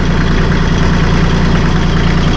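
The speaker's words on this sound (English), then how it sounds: "Idle. That's quiet tractor for an open station tractor." A Massey Ferguson 1M.25 compact tractor with a hydrostatic transmission and open operator station idles steadily, its loud close engine rumble constant and even throughout.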